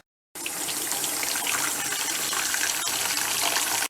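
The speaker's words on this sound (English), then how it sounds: "I'm just gonna fill this up with the water from the sink" Water gushes steadily from a sink tap into a bucket, a continuous close rushing fill that starts abruptly and runs without pause.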